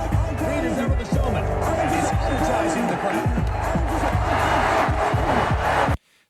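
Boxing arena crowd in Creed II cheering as the fighter plays to them, a dense, loud roar of voices with shouts that runs steadily and then cuts off abruptly.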